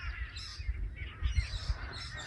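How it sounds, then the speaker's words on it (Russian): Birds feed on leftover oats in a freshly harvested field, giving faint, scattered honking and chirping calls at a distance over a low rumble of wind. "Птицы подъедают то, что осталось"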